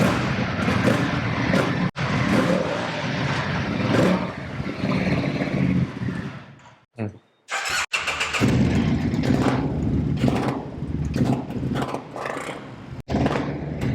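Loud superbike engine revving hard inside a showroom, with sustained roaring bursts, a brief cut near the middle and sharp throttle blips afterward.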